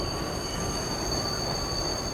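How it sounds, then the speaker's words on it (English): A train rattles along the tracks with a steady, loud rumbling roar. High, thin wheel squeals ring continuously above it, and no voices are heard. "counting down in her head as the train rattled along the tracks"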